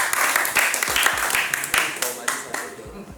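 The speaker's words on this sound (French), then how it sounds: "Applaudissez s'il vous plaît." Audience clapping at a young singles speed-dating event, a fairly close, uneven burst of hand claps that thins toward the end.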